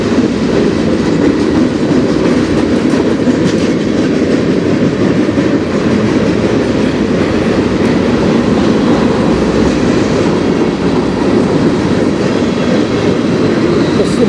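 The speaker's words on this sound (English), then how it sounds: "This will be my last train today." A train rolls past on the Strathroy Subdivision in Ontario, a loud, continuous rumble with clattering wheels that fills the whole stretch without letup.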